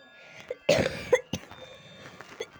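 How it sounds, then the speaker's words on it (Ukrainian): A few sharp coughs close by, one after another, with short pauses between them and quiet rustling in the gaps. "А я бы сейчас закашель. Кашляю."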